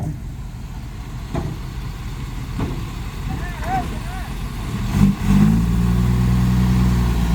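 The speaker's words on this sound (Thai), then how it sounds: "เดี๋ยวก่อน เดี๋ยวก่อน เอารถไถออกก่อน" A tractor's engine runs at a steady rumble during rainy-season earthwork, then surges louder with a revving push near the end, close by and dominant.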